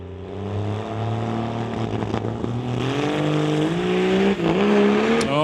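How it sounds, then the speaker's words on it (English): A Dodge Ram 1500 at an NHRA summit ET bracket drag race launches hard, its engine roaring loud and steady while the tires spin and the revs climb throughout. "Oh, spinning the tires, shaking them up."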